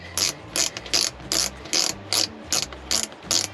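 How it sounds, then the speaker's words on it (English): A BOA dial on a Korkers Devil's Canyon wading boot ratchets as it is turned to tighten the laces, giving about ten crisp, evenly spaced clicking bursts up close with no talk. "just push this dial in and roll it clockwise"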